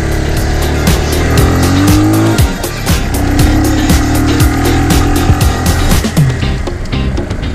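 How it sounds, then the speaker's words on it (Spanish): A vehicle labors up a steep, stony dirt road in the hills of Córdoba, Argentina, its engine droning loudly while the tires spit loose stones that rattle and click in quick irregular bursts. "Se siente como tracciona la rueda, como va tirando piedras."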